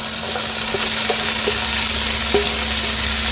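Chicken with onions and red pepper cooks on medium-low heat in a pan, giving a steady, moderate sizzle broken by light scraping stirs, with a constant low hum in the background.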